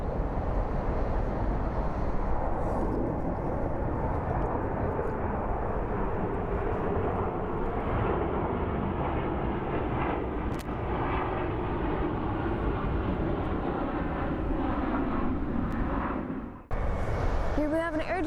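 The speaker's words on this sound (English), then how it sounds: "Here we have an Dolomiti Embraer E195 LR headed to Florence." Close-up jet noise at Frankfurt Main Airport from a Dolomiti Embraer E195 LR, a loud, sustained roar that holds for most of the stretch before cutting off abruptly near the end.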